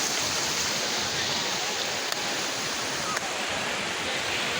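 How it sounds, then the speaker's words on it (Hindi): The Bhairavkund river rushes along among mountains, a constant broadband roar of flowing water close by, steady throughout with a couple of brief clicks. "एटा भैरवकुंडकर नदी"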